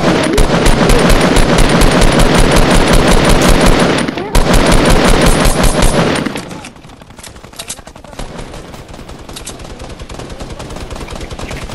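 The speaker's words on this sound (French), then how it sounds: "On tire dessus, ça me tire dessus." Gunfire in a video game squad match: loud, sustained automatic machine-gun bursts roar almost without pause, then drop to quieter, more distant firing and game noise.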